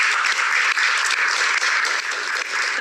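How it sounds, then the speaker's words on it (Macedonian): An audience claps steadily for the women on a Macedonian talk show, a dense, even wash of applause lasting about three seconds with no voices on top. "Банкарот е еден аплауз за жените,"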